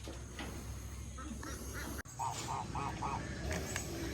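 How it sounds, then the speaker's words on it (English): Two geese honking outdoors, a short run of nasal honks repeated in a rhythmic series over a steady background hum. "Well, Bonnie and Clyde's out here on the outside, the two geese."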